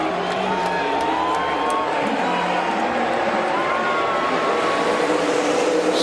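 NASCAR race cars restarting in overtime at Michigan, the pack running two by two: a loud, steady roar of many engines, with a crowd noise underneath and a commentator's voice over it, sustained through the whole stretch.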